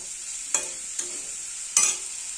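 Potato and pointed gourd curry being sautéed in a pan, a steady sizzle with three distinct stirring scrapes, the last one loudest, no voices.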